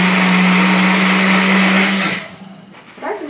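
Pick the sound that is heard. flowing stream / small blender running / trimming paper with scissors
small blender running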